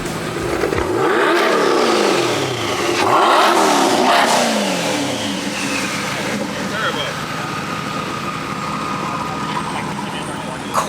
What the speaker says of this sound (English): I believe this is the all-new Corvette C8 Z06 because the Ferrari sounding engine is just so noticeable whenever it revs it